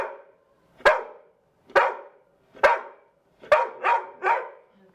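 Service dog barking nearby, six sharp loud barks, the first three spaced about a second apart and the last three coming in a quicker run.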